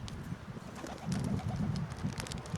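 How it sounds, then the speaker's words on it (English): Pigeons cooing in a low, throaty, rolling pattern as they crowd in to be fed outdoors, the murmuring thickening midway through over light ambient noise. "Oh, the pigeons are coming."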